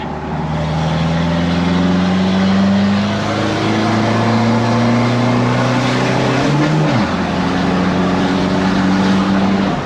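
Stock car engine revving with a rising then falling tone, a sharp dip as it shifts, then settling into a steady idle drone, close and loud.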